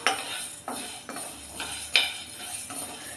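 Ingredients for a green gram gravy are dry-roasted in a pan and stirred, producing a series of distinct metallic spoon scrapes and clinks at regular intervals, close up with a faint background hiss and no speech.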